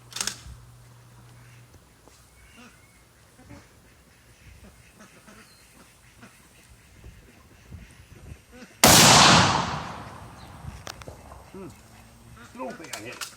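A single loud 7.35 Carcano rifle shot fired at a target outdoors booms sharply and rolls off in a long decaying echo, with quiet background noise before it.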